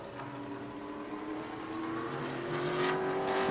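A Pro Late Model race car circling New Smyrna Speedway during qualifying, its engine droning steadily at a distance and gradually growing louder toward the end, with no voices.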